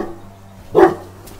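A single loud dog bark rings out once in a quiet yard, close and sharp against a low background hum.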